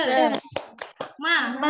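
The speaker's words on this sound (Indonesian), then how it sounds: "Tepuk semangat." Children clapping a quick rhythmic spirit clap together in a classroom, several sharp hand-clap bursts spaced across a short chant, with kids' voices mixed in.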